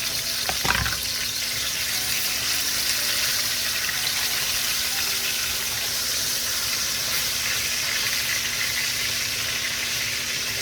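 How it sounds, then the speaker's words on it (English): Ground beef fries steadily in a pan, giving a constant, loud hiss and sizzle throughout, with no talking. "So let's pour our beef in our pan, and let's get started cooking."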